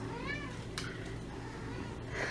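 A cat named Miss Kitty in a guest bedroom gives a short, faint meow near the start, set against a soft room hum.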